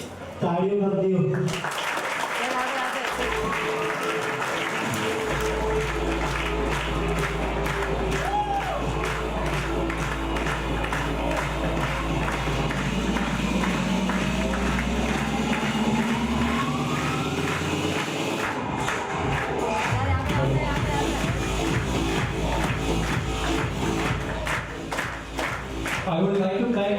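Sustained applause and crowd noise at a felicitation ceremony on stage, continuous loud clapping with cheering voices layered over a low rumbling hum throughout.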